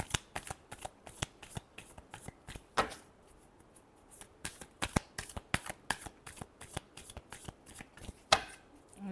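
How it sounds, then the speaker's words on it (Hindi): Tarot cards are shuffled by hand in repeated crisp riffles and snaps, close and fairly loud, with short pauses between bursts and no talking. "last shuffle,"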